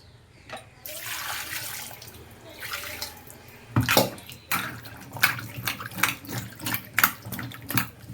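Chinese potatoes (koorka) washed by hand in water, with sloshing, splashing and rubbing in a container, then a series of sharper rhythmic splashes, close by and without speech.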